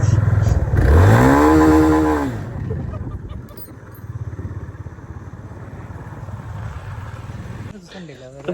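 An automatic car's engine revs sharply near the start, climbing and falling in pitch over about a second. It then settles into a low idle beneath outdoor background noise.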